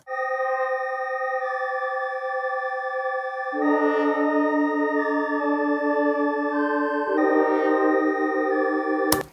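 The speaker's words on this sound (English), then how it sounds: "if I were to take all of these notes here and play them all at once with the same source, which is this Arturia plugin here" A stacked polysynth chord from an Arturia CS-80 plugin, all notes struck together, sustains steadily with bright layered tones. It shifts to new held chords twice and ends with a sharp click, with no voices present.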